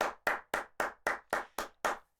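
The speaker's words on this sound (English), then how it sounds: "somebody should be applauding for this man" Eight sharp, evenly spaced claps ring out about every quarter second, a small group applauding a podcast guest in a room, with no voices underneath.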